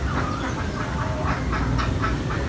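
Ducks quacking on a provincial farm, a dense overlapping chorus of repeated nasal calls over a steady rumbling background, no voices.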